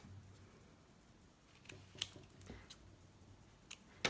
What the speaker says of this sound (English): I'm going to take my scissors and I'm going to snip off the last little triangles here